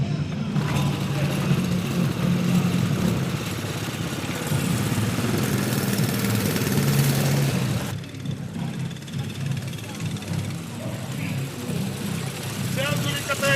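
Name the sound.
front-wheel-drive motor scooter engine running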